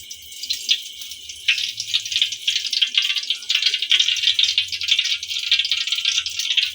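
Oil poured into a pan for curry makes a continuous trickling, hissing stream that runs for several seconds and grows a little louder, with no speech.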